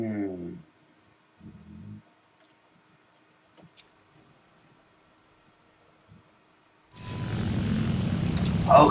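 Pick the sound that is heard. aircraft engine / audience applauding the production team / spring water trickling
aircraft engine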